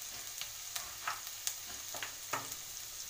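Chopped onions fry in a pan for a village-style white kuzhambu, a soft continuous sizzle broken by sharp scraping clicks as a spoon stirs them every half second or so, close and without any talk.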